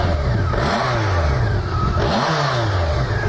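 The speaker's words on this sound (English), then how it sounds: "The bike runs real good." A 2002 BMW K1200LT with a liquid-cooled 1200cc inline-four engine runs and revs loudly up close, its pitch climbing and falling in repeated sweeps with no talking.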